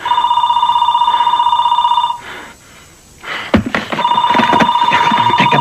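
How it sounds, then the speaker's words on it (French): Telephone bell ringing in a French action thriller film, a loud, close, continuous electronic trill that stops briefly amid scuffling noises, then resumes. "Répondez au téléphone"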